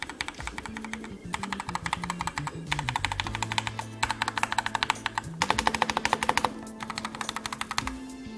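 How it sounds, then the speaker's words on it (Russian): Rapid, fairly soft typing on a quiet HP mechanical gaming keyboard in quick bursts of clicks, with short pauses between runs, close and alone. "как для механической клавиатуры она звучит крайне тихо"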